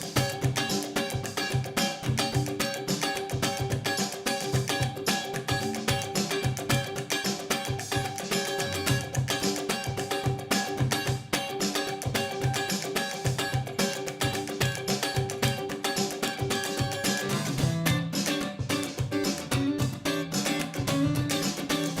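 Steady, driving strummed guitar groove with accents falling on every third sixteenth note, dense and continuous for about twenty seconds at a moderate level, with no pauses and no talking.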